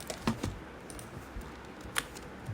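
Typing on a computer keyboard: a few sparse, faint key clicks and taps spread unevenly across a quiet room.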